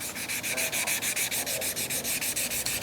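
A RIB boat hull being sanded with fine 800-grit sandpaper: loud, close, steady back-and-forth scrubbing strokes repeating at a quick, even rhythm.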